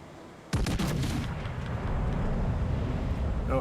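Heavy warship guns boom in World of Warships: Legends, one sharp loud salvo followed by a long rumbling roar of sea and engine noise, with a faint crack near the end.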